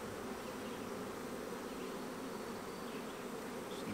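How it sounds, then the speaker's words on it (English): A dense swarm of honeybees hums continuously inside an open queen-rearing starter hive, a steady close buzz with no pauses and no voices. "Excuse me, bee."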